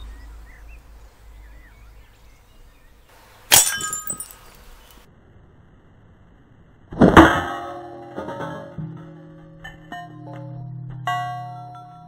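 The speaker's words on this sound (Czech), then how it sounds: "skleničku to celkem pěkně rozbilo" A drinking glass hit by a slingshot shot in a garden, with a white cloth laid down to catch the shards: a sharp crash of breaking glass, then a second louder burst with ringing shards tinkling as they settle.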